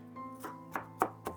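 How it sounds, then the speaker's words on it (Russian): A knife chops a quarter of a medium red onion, giving about four crisp, evenly spaced cuts close up over a faint steady background tone. "Порежу примерно четверть средней красной луковицы."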